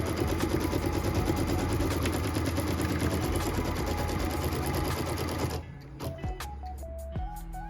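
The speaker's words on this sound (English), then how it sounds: "what we're stitching right now is the tack down line and cut line" An embroidery sewing machine runs steadily and loudly at close range, its needle hammering in a fast even rhythm while stitching a tack-down and cut line on a quilt block, then winding down into slower motor whirs and clicks.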